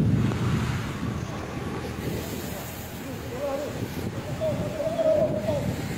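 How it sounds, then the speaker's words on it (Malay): A strong windstorm near a school in Sijangkang, Selangor, roars and gusts without a break, buffeting the microphone with a dense, rumbling rush from start to end. "Angin kuat, ribut."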